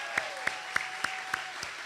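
Applause at a plastic surgery foundation's 35th anniversary awards reception at Lake Travis in Austin, heard as a handful of sharp, evenly spaced claps standing out over a soft background murmur.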